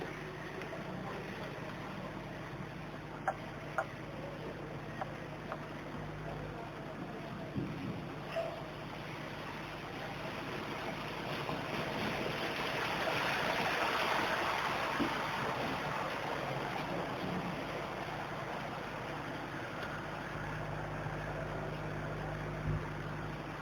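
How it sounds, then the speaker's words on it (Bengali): Floodwater from the Surma river spreading into a neighbourhood in Sylhet, a faint broad rushing wash that swells in the middle and eases off, with scattered light knocks and distant noises. "বিভিন্ন এলাকায় পানি ঢুকছে দেখেন"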